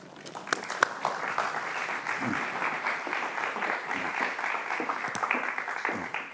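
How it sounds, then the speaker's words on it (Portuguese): An audience at a literary book event applauds a guest as he is introduced, a dense sustained round of clapping with a few sharper individual claps standing out and faint voices beneath. "Uma salva de palmas, por favor"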